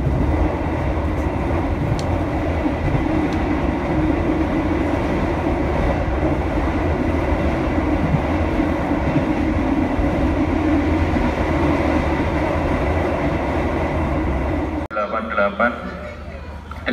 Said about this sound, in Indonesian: Ya, ginilah ya ceritanya naik kereta ekonomi sendirian.